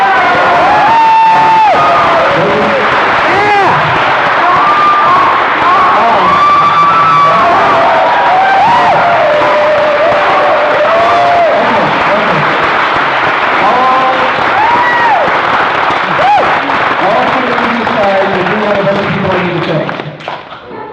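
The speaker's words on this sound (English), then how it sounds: "a round of applause for our awesome game master" A convention audience at a live tabletop role-playing game show claps and cheers loudly and steadily for about twenty seconds. Whoops and shouting voices mix through the applause, which fades at the very end.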